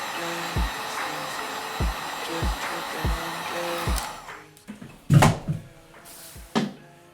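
A heat gun blows hot air onto an iPhone 8 Plus screen to soften it for removal. A steady, airy hiss runs under evenly spaced soft thumps, then gives way to louder bumps and handling noises.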